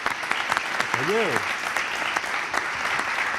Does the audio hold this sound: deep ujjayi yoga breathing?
no